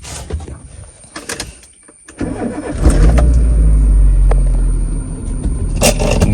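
A car engine cranks and catches after a brief quiet spell, then settles into a steady, close idle hum with a few light clicks.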